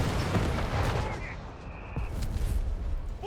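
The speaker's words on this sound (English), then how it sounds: "Mortar there, still at it." A mortar firing in the video game Company of Heroes 3 during a battle, giving heavy booming blasts over a rumbling wash of battlefield noise.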